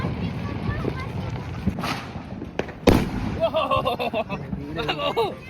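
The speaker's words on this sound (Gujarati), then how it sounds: "બોમ્બ ફોડવાનો" A firecracker bomb bursts during Diwali with a single sharp, loud bang close by, amid outdoor wind noise and excited voices of people talking and shouting before and after.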